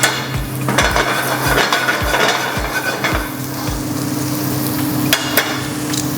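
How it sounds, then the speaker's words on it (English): Spanish onion and garlic sautéing in melted butter in a fry pan, a soft sizzle under a run of sharp rhythmic knocks and clatters of utensil on pan, with a steady hiss continuing once the knocking stops. "I'm going to melt some butter in a fry pan, saute off a little bit of Spanish onion and garlic"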